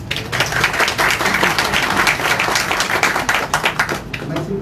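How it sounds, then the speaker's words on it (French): An audience at an official handover ceremony for a national health security agency applauds, with close, dense clapping sustained throughout. "Merci pour les applaudissements"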